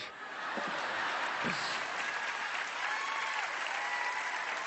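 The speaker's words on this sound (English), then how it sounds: "Please resist the temptation to jump up with applause." An audience bursts into applause at a New Year's Eve show, a dense, steady wash of clapping that swells quickly and carries on evenly, with a few voices briefly heard near the start.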